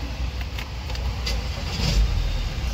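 A car with a turbocharger boost control position sensor circuit range/performance fault runs at idle, a steady low engine rumble close by with a few faint clicks and no talk.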